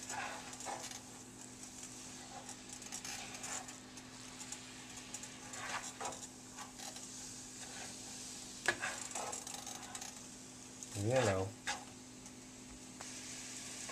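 Chili sizzling quietly in a hot pan, a steady faint hiss running throughout with occasional soft clicks and a brief louder scrape near the end, while a voice speaks briefly.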